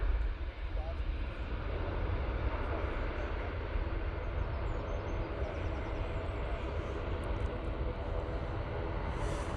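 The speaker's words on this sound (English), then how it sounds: "That's the EasyJet off to Porto" An EasyJet airliner departs Manchester for Porto with a continuous broad engine roar, fairly faint and steady over several seconds, while a voice may be present faintly in the background.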